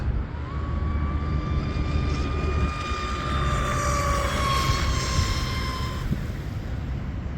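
An M950 RC plane with a Tenshock EVO2250HP electric motor makes a speed sprint, its high motor whine rising in pitch as it approaches, then falling away as it passes and recedes over steady background noise.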